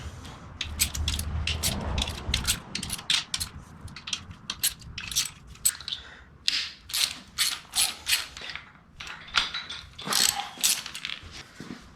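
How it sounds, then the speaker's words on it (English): A ratchet removes bolts from the transmission of a BMW E30/E36 M52 turbo build: quick clicking bursts repeat at close range, with small metallic clinks between strokes. "So we'll remove all of the bolts."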